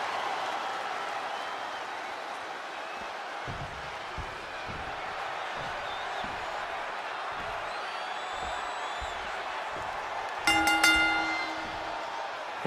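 A wrestling arena crowd keeps up a steady wash of applause and cheering, with thuds from the ring and a sharp ringing tone near the end.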